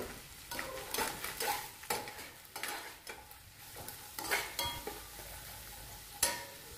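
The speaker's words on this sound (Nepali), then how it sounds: "अब म यसमा चना पनि राखेर चना र प्याजलाई सँगै भुट्छु" Chickpeas and chopped onions fry together in oil left over from cooking meat. A spoon stirs and scrapes the pan in a steady rhythm of close, clattering strokes over a soft sizzle, with no talking.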